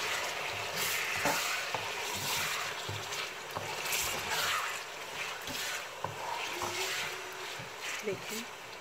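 Mutton pieces frying and being stirred in a karahi for a restaurant-style gosht karahi, a steady close sizzle with scraping stirs throughout, under intermittent talk.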